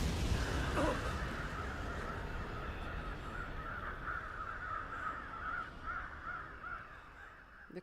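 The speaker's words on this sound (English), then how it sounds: "The crows, the bane of my existence." Crows caw repeatedly over a steady background wash, their calls moderately loud and continuing throughout without speech.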